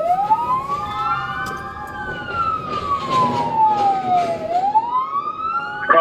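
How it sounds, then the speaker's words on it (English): A loud police car siren wails continuously during a pursuit of a stolen forklift, its pitch sweeping slowly up and down, with traffic rumble underneath. "Go ahead and reactivate your lights and sirens there"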